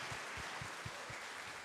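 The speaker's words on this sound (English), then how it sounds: "A round of applause, please." An audience claps steadily at a conference talk, a dense wash of hands with no voices over it.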